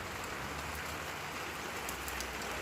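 Steady rain falls outdoors on a wet morning, a constant close hiss of drops on surfaces with no pauses and no voices.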